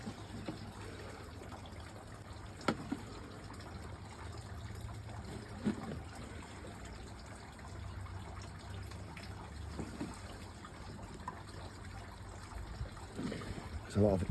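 A steady trickle of engine oil being poured into a Harley-Davidson motorcycle, with a low background hum and a few clunks throughout.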